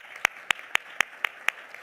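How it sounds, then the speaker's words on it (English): At a youth mental health symposium, an audience claps in crisp, evenly spaced single beats, about four per second, moderately loud and in unison, then fading out. "A round of applause."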